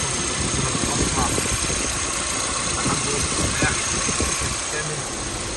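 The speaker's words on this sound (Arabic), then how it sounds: "المحرك، صوت المحرك ممتاز جدا" A 2015 Kia K3 car engine idling with a steady low rumble and slight knocking vibration, while someone talks over it nearby.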